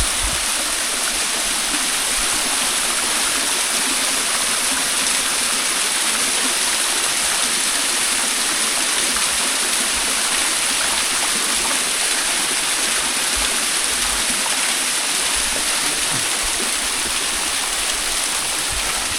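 A small waterfall pours into a forest stream, its dense, steady rushing holding at an even level throughout with no breaks or voices.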